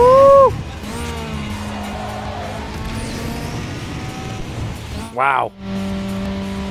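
A car in Need for Speed Underground 2 roars on a nitrous boost, with a sustained engine drone, a rising whine, and a sharp revving burst near the end; a voice exclaims over it.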